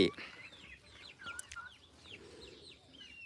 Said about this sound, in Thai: นี่คือไก่ของเรานะครับ